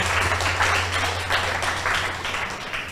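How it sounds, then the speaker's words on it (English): Audience at a school debate applauding, a steady wash of many hands clapping that fills the whole stretch at even loudness, with a low steady hum underneath. "please give them a big round of applause"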